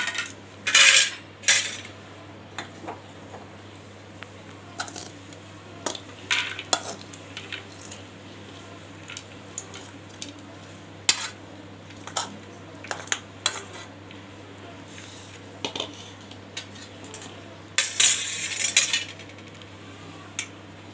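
Cooked food is served with utensils into a dish, bringing scattered clinks and scrapes of metal spoons against pots and plates, some sharp and close, separated by quiet pauses.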